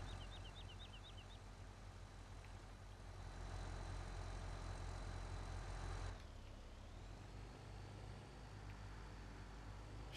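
Truck engine idling in a truck driving game set in the American Midwest, a steady low rumble with a continuous hum that shifts pitch partway through, with no talk.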